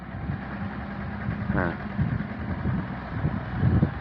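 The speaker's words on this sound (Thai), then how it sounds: "พ่อเขากำลังปั่นฝั่งรถไถใหญ่นั่นแหละ" A large tractor ploughing a rice paddy drones as a faint, distant, steady engine hum beneath nearby talking and outdoor noise.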